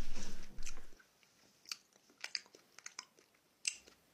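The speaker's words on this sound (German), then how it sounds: "Schmatz doch woanders und nicht in ein scheiß Mikrofon rennen." Wet, close-miked chewing and lip smacking: a few loud crunchy bites at the start, then a run of smaller moist clicks and smacks near the microphone with no talking.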